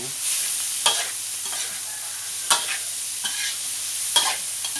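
Pork sizzles as it is stir-fried in a pan with fern shoots, a steady frying hiss broken by several sharp scraping stirs of the utensil against the pan.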